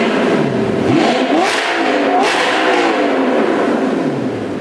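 A straight-piped Audi R8 roars loudly and close by, its engine note sweeping up and down through rising and falling revs with a harsh exhaust rasp that stays strong throughout.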